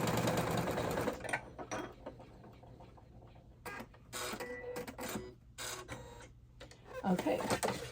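An embroidery machine top stitches a wallet seam in the hoop, sewn with old thread; its rapid needle chatter comes in bursts separated by brief pauses, close and fairly loud, ending with a louder run.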